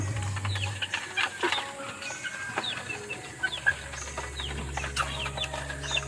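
Chickens cluck and chatter intermittently nearby, with a low steady hum underneath and occasional sharper calls from a rooster.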